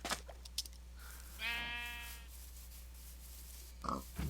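A single sheep bleats once in a drawn-out, wavering call lasting about a second, quiet against a low background hum with a few soft clicks around it.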